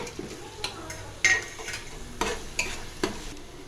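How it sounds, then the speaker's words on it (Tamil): Ground biryani masala is stirred with softened tomatoes in a pan, giving several separate scraping strokes of a spoon over a faint sizzle, quiet and close. "பிரியாணிக்கு அரைச்ச மசாலா போட்டுக்கலாம். நல்லா கிளறி விட்டுக்கலாங்க."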